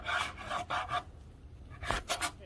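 Knife slicing skirt steak into strips on a cutting board, several short rasping strokes in quick bursts, close and quiet.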